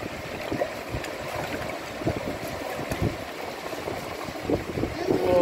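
Water splashing and pouring in a continuous, uneven stream, with rushing and sloshing noise throughout and faint voices in the background.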